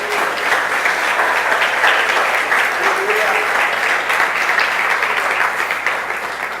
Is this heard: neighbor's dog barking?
no